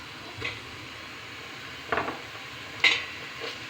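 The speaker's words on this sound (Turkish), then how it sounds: "Şimdi salçamızı ilave edeceğiz." Tomato paste and pepper paste stirred into onions sautéed in oil for leek soup, a few distinct spoon scrapes against the pot over a faint background sizzle, no talking.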